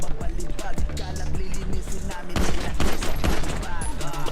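Rapid bursts of video game gunfire crackle in quick succession, dense and continuous, with sharp repeated shots layered over each other throughout.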